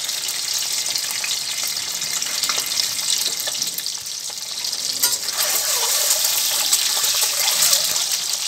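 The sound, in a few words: egg being shallow fried in a pan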